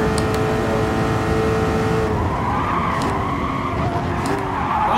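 Race car tires skidding off track in Gran Turismo Sport, a loud, sustained screech over a droning engine that fades into a rougher scrub partway through.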